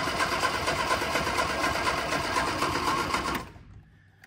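An Innocenti S Spider engine cranks over steadily with a fast, even churning rhythm for about three and a half seconds, then the starter cuts off and the sound drops away to near silence without the engine catching.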